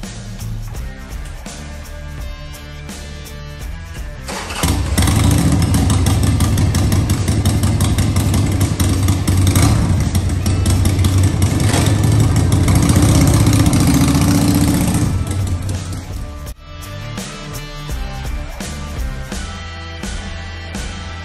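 A Harley-Davidson Sportster motorcycle engine idles with a loping, uneven rumble, then revs up loud and sustained for about ten seconds before settling back to a lumpy idle, close by and with no talk.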